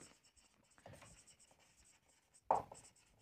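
A pen scratches across paper in short strokes during an accountancy lesson, faint and close, ending with one firmer tap or stroke.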